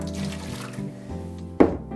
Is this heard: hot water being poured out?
yes